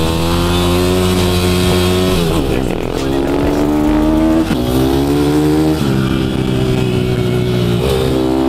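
Supermoto motorcycles, including a KTM-style 690 single, race on a track, engines loud and close with steady high revs, downshifts and repeated rises in pitch as they accelerate out of corners.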